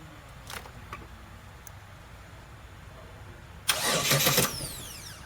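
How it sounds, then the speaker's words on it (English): Car engine with a relay and fuse box fault being tested, a few faint clicks and a quiet stretch before the starter cranks briefly and the engine catches and fires, loud and close. "if I touch this and the starter cranks or crank over or attempt to crank"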